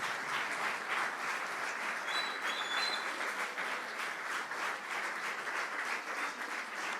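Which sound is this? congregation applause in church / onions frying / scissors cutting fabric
congregation applause in church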